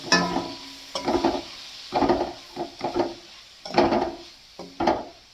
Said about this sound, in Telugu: బాగా వేయించుకోవాలి ఫ్రెండ్స్ ఉప్పు కారం అన్నీ పట్టేదిగా